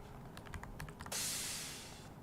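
Quick run of keys tapped on a computer keyboard in a music production session, about eight close, light clicks, followed by a bright crash cymbal sample that rings out and fades.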